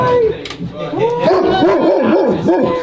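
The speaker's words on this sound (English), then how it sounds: "That's a big dog." A big dog whines and yips close by in a rapid series of rising and falling cries, with short barking bursts mixed in.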